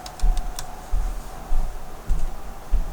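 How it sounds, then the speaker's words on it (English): Typing on a computer keyboard while searching for a leather texture, heard as a few short bursts of soft key clicks at an even pace, close and fairly quiet. "I'm just gonna type in leather"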